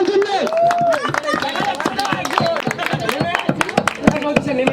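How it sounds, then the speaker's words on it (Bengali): Scattered applause from an audience at the grand opening ceremony of a motion picture studio, uneven claps rising and falling beneath ongoing talk and background voices. "একটু হাততালি হয়ে গেল সবার জন্য।"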